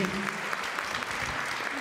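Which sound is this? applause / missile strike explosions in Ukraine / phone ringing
applause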